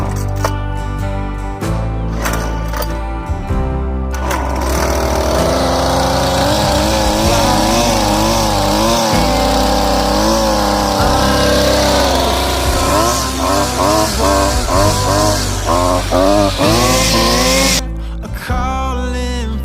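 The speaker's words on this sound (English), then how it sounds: "let me get y'all set up, and then we'll weed eat this last section" A gas string trimmer cuts grass, its high engine whine steady and loud, swelling and dipping with throttle changes over nearly twenty seconds before cutting off abruptly.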